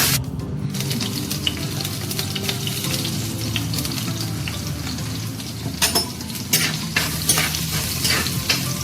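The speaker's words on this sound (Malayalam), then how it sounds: "ആറേഴ് അല്ലി വെളുത്തുള്ളിയും ആവശ്യത്തിന് ഉപ്പും ഇട്ട് വഴറ്റുക." Six or seven garlic cloves with salt being sautéed in a pan for a Kerala fish curry: a steady, close sizzle with scraping stirs that come more often toward the end, and no talking.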